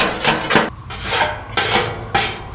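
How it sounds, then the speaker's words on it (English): A putty knife scrapes grease across a gas grill in four rough, rasping strokes, each about half a second, close and loud. "Just take your putty knife, scrape everything right down that hole."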